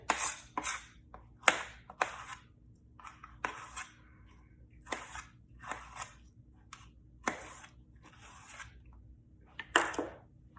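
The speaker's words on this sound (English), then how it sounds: "We're going to cut this in big chunks." A knife makes quiet, irregular cuts through firm pumpkin, cutting it into big chunks, each stroke a short crisp scrape with pauses between, close by in a hushed room.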